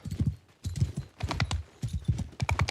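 Rhythmic clip-clop of horse hooves in a barbarian fantasy game, a run of quick, fairly close hoofbeats in bursts with short pauses between, no talking over them.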